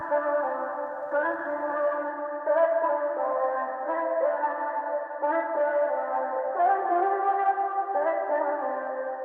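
A pitched, processed vocal melody shaped with Cymatics Origins, EQ, reverb and other effects sustains smooth, stacked harmonic tones that glide between notes in a dark, echoing wash, steady and continuous with no speech.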